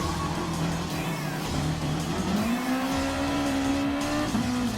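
Honda NSX Super GT race car in Gran Turismo Sport braking for a corner: a loud engine drone drops in pitch, then climbs again, with tire squeal and skidding over the top.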